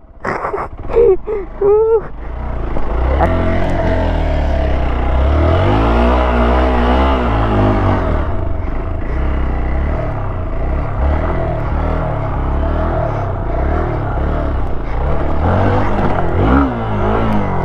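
An off-road motorcycle engine revs loudly and continuously, rising and falling in pitch, close by, with a rough roar throughout.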